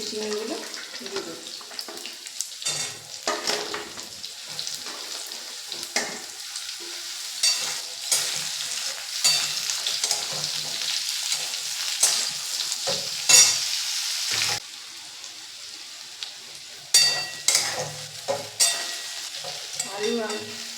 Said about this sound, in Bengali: আলু আর চিচিঙ্গে ভাজা ভাজা হয়ে গেছে